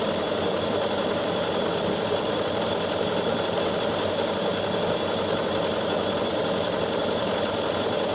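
A Bernina 7 Series sewing machine stitches on its own in combi mode, a steady, continuous mechanical hum and rapid needle rattle, close and even throughout, with no voices.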